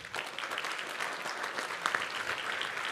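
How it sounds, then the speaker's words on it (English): Sustained audience applause for a general leaving the stage at a defense programs conference, a dense, steady wash of many hands clapping at even loudness throughout. "let's give a big round of applause to General Adams."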